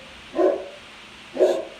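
A pet dog in a home room gives two sharp barks about a second apart, fairly close and clear over a faint steady fan hum.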